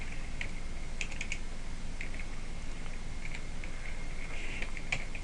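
Quick bursts of typing on a computer keyboard, light clicky keystrokes in short runs over a constant background hiss, close and moderately loud, with no voices.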